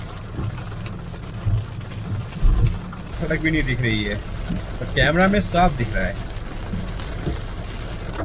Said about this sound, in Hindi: बारिश गिरने की आवाज़ तो आ रही होगी।